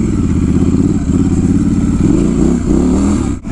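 A Triumph Scrambler 1200 XE motorcycle ridden off-road on dirt, its engine loud and close with a pulsing mid-pitched exhaust note that rises and falls as the throttle changes, plus some clatter over bumps, alone without talk.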